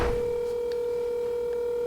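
A telephone call being placed: a steady dial tone hums throughout with a few faint beeps from dialing, quiet and alone without voices.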